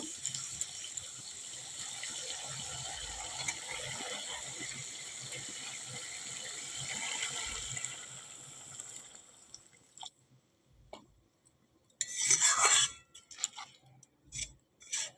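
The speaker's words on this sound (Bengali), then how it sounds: "এবারে আমি জল দিয়ে দেব।" Water is poured into mustard hilsa masala frying in oil, giving a steady hissing, running pour for several seconds that then cuts off, followed by a few brief splashes and clatters.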